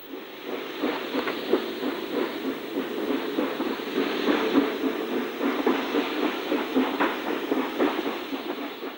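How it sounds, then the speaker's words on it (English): A Bath Sheds 3F tank steam locomotive, number 47465, shunting in the sidings, with steady rhythmic chuffing and rail clatter at moderate distance, no voices. "Bath Sheds 3F tank number 47465, used for banking trains from Radstock, is shunting in the sidings."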